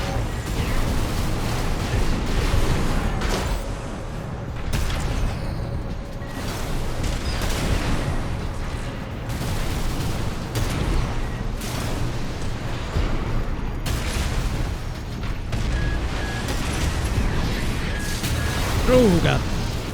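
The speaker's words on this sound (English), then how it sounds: "Come on, get him with the missiles." Missile launches and explosions from mech combat in the video game Armored Core, a steady rumbling barrage of booms and blasts that plays continuously under someone talking.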